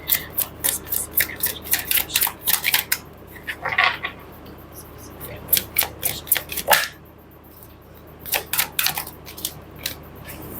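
Close, crisp tarot card shuffling comes in rapid bursts of riffles and snaps, broken by brief quiet gaps.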